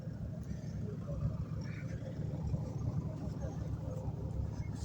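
Rescue team off-road cars near an erupting volcano in Iceland rumble with a steady, low engine drone throughout, moderately close, with people talking over it.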